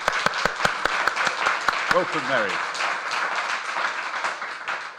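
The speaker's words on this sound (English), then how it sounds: "Round of applause, please." Audience applause for a guest author at a literary talk event, with several sharp nearby claps at first blending into steady crowd clapping; a voice speaks briefly over it.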